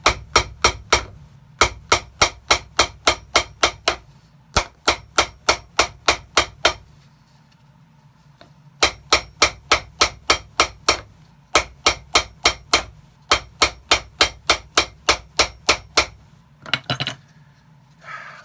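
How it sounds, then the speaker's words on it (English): Rapid bursts of hammer blows ring out in quick regular runs, separated by short pauses, sharp metallic strikes close by, building a leather heel stack on a shoe sole. "What's with everybody liking hammer noise?"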